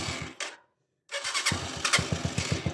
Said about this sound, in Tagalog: Kahit naka-neutral or nakakambyo, gagana yung ating electric starter.